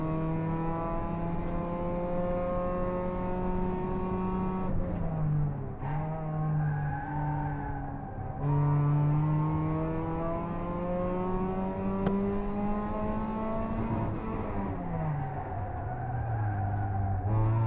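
A small race car from a Small Car Cup race laps Pheasantwood Circuit, heard from onboard: a steady, loud engine drone that climbs through the gears, drops sharply on each shift and braking point, then winds up again.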